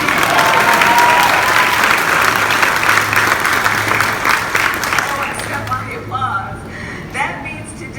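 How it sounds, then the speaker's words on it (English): An audience at the Vice President's event at Sycamore & Oak in Washington, DC breaks into loud, dense clapping that thins out after about five seconds as a voice begins speaking. "go ahead and clap."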